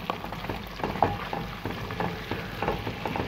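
Food browning in a hot pan, a steady sizzle with small crackles and a few stirring scrapes, close and moderately loud, no voices.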